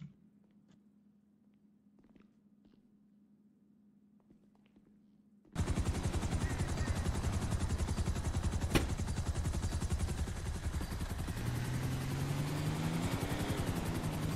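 A helicopter in a roleplay video game starts abruptly after quiet low hum, a loud, steady rotor chop with a dense rhythmic pulse that continues without letup.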